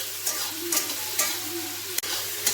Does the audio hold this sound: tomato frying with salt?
yes